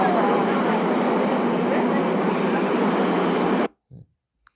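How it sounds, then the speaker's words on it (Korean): Steady, loud rumbling roar recorded inside a moving subway train, a dense broadband wash that holds evenly for several seconds, then cuts off abruptly, leaving near silence and a brief faint knock. "지하철에서 측정한 거를 한번 영상을 잠깐 볼게요"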